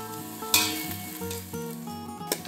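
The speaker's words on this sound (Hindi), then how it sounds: "तो प्याज को हम थोड़ा सा भून लिए हैं" Onions sautéing in a pan for vegetable soup give a steady close sizzle with repeated scraping and stirring strokes and a few clinks of a utensil, with no talking.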